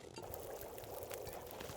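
Water pours and gurgles steadily as a character drinks in the survival video game The Long Dark, a soft, continuous liquid wash heard at close range.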